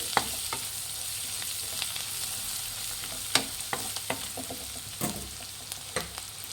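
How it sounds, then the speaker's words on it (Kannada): Turmeric being stirred into frying onions in a pan for mango chitranna, an even low sizzle broken by scattered spoon scrapes and taps against the pan. "ಅರಿಶಿನ ಹಾಕಿದ್ಮೇಲೆ ಚೆನ್ನಾಗಿ ಮಿಕ್ಸ್ ಮಾಡಿ"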